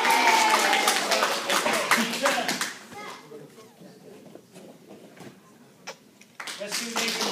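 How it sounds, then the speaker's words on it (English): A martial arts class practises a round of applause: a burst of clapping and cheering voices for a few seconds fades into quieter chatter and scattered taps, then clapping picks up again near the end. "we're going to give them a big round of applause"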